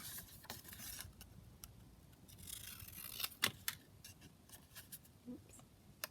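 Scissors cut down a journaling card for a beginner's junk journal, giving a few quick, close paper snips over a quiet room background.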